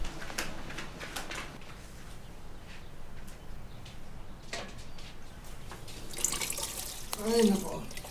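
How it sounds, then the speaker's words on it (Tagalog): Hot shower water runs and splashes softly in the background with faint drips, while a voice briefly speaks over it near the end. "Sira na naman itong hot shower."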